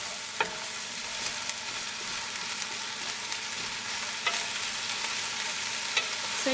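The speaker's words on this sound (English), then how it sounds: "And I'm just going to cook this. Saute it until everything kind of goes a bit" Onions, leek and potatoes sauté in a pan for pumpkin soup, giving a steady, soft sizzle with a few faint utensil taps against the pan and no talking.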